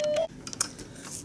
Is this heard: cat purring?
no